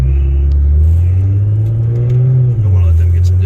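Inside an 850 hp 2017 Nissan GT-R, a loud, steady low engine drone fills the cabin, its pitch rising slightly and then dipping as the car rolls along.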